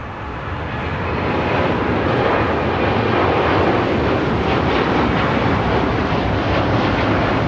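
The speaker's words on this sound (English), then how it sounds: "This is American Airlines Flight 1799 taking off to Philadelphia" An American Airlines 787-9 Dreamliner takes off from runway 25 right at LAX with a loud, broad jet roar that swells over the first seconds and then holds steady and powerful.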